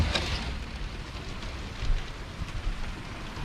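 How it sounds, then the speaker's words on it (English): Steady rain falls heavily, a constant hiss of drops with low rumbling wind gusts underneath, heard from inside a boat near Jacksonville. "Wow, it's raining out there."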